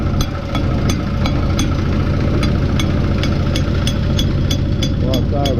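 An engine idles steadily with a low, even rumble and a regular ticking pulse, loud and close in a shed, running with a slightly uneven beat.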